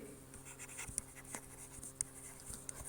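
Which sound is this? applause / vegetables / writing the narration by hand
writing the narration by hand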